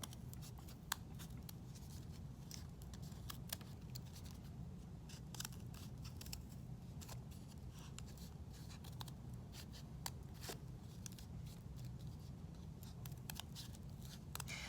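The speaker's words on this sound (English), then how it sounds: "Now I'm gonna use my scissors" Scissors snip through printer paper again and again in quick, irregular cuts while a paper snowflake is cut out, quiet and close, with light rustling between snips.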